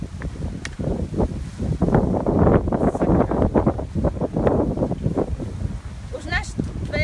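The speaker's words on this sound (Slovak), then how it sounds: "Trocha tu fúka." Outdoor wind buffets a microphone, a steady low rumble running under continuous talking throughout.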